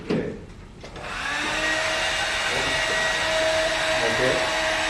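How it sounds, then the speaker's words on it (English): A hair dryer starts up during a physics circus demonstration, then blows with a steady, loud, even whoosh and whine that holds to the end. "you want to do this one with the hairdryer?"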